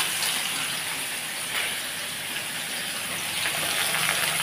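Chopped onion, chili and garlic hit a hot pan, giving a steady, fairly loud sizzling hiss that holds without a break.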